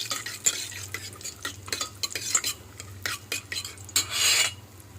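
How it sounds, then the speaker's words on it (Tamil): Cashews and cardamom roasting in a pan for coconut burfi, a quiet scraping stir with soft sizzling and light metal-on-pan scrapes, rising briefly louder near the end, with no talk. "முந்திரி நல்லா வறுத்துக்கணும்"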